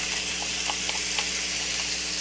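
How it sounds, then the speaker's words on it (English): Diced bell peppers and onion sizzle in a hot skillet, giving a steady, close, broadband hiss with faint crackles and small pops throughout, and no talking. "And hear the sizzle."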